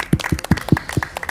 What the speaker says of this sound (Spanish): Un aplauso enorme para Ale y Hernán.